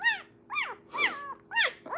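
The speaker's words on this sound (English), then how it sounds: "a lot of people say that when they hear puppies, it kind of reminds them of like alligator or crocodile" A six-day-old puppy gives four or five short, rising-and-falling squeals and whines in a steady rhythm, close and clear, with no talk over them.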